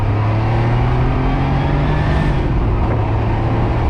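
A pre-production 1983 Porsche 911 Carrera Cabriolet with Turbo Look body drives on a foggy road, its engine droning steadily and close up for the whole stretch, with pitch shifting slightly as it changes gear.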